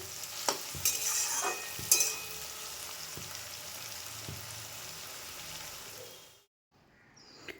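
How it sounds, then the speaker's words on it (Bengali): Onions frying in a pan, with a soft continuous sizzle and a few sharp spatula scrapes and taps early on, fading to quiet near the end with a faint clink. "পেঁয়াজগুলো অনেকটা ভাজা ভাজা হয়ে এসছে"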